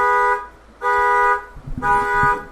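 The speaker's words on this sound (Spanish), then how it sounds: "que luego los niños nos agarran el control y le apachurran ahí a la alarma." Car alarm set off by children pressing the remote, sounding three loud electronic horn blasts in a steady on-off rhythm, close by, with some clatter under the last blast.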